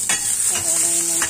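Ginger and onion fry in hot cooking oil in a pan, a bright continuous sizzle with a few quick stirring scrapes and light clinks close by, and no talking.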